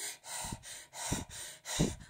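A woman trying on clothes puffs and breathes heavily, three strained breaths in a slow, regular rhythm, close and fairly quiet, with no talk.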